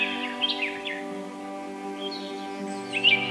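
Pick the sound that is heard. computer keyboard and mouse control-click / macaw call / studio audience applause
macaw call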